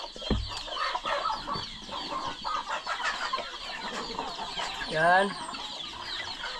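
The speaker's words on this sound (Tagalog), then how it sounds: "Daming sisiw. At may mga naglimlim pa." Chickens and chicks on a Filipino backyard farm cluck and peep in a steady busy chorus close by, with brief speech at the start and a louder squawking burst near the end.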